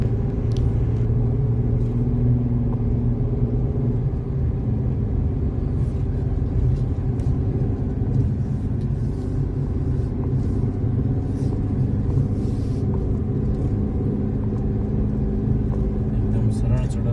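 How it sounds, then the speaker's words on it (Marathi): A car engine labours up a steep hill in first gear, giving a steady, low, droning rumble throughout with no break in pitch. "पूर्णप्रमाणे चढण असल्या कारणाने गाडी पहिल्याच गिअरवरती वरती चढवावी लागते."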